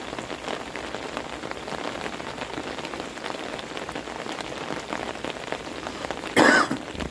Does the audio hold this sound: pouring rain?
yes